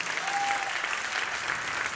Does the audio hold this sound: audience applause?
yes